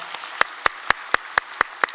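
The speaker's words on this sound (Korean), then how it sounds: "우리 많이 등록해 주셨는데 박수로 환영하겠습니다" A single pair of hands clapping during a church Christmas Sunday service, in a steady, even rhythm, about eight crisp claps close by, with no voices.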